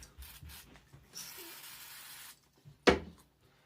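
A can of setting spray for cyanoacrylate glue lets out a steady close hiss for about a second, then a sharp, brief puff of spray, with quiet handling rubs around it.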